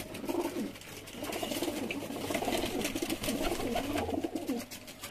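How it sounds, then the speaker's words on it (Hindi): Many pigeons coo together at a pigeon sale in Lahore, Pakistan, a dense, continuous burbling chorus with steady background hum and no speech. "कबूतर है, पिछले घरों में बैठे हुए कबूतर है।"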